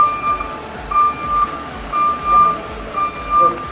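A water tanker truck reverses, its backup alarm beeping in a steady, evenly spaced series of loud tones over a low engine rumble, with faint voices in the background.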